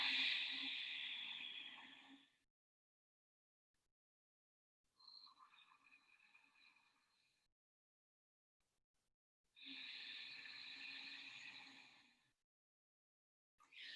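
A yoga breathing exercise: guttural breaths pushed out through the nostrils with a constricted throat. Three long, rough, airy exhales, each lasting about two to three seconds, are separated by silence, and a fourth begins at the very end.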